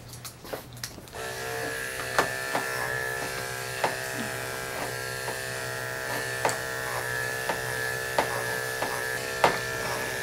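Electric clippers fitted with a two guard buzz steadily while grooming a Shih Tzu, a constant close hum with small clicks and taps as the blade moves through the coat, starting after a second of handling noise.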